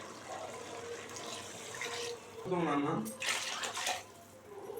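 Water pours steadily into a cooking pot with splashing and filling sounds, 2.25 cups for 1.5 cups of rice for mushroom biryani, while a person talks nearby.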